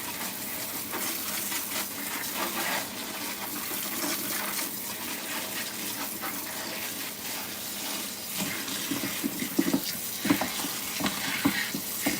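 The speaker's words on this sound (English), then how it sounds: "I always clean my fruits and vegetables with baking soda." Running water over fruits and vegetables being washed with baking soda in a home kitchen, a steady close splashing wash with irregular clatters and handling noises toward the end.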